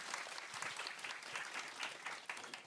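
Audience at a Korean youth-policy forum applauding to welcome the next presenter, a dense patter of many hands clapping steadily, fairly faint and distant, with no talking.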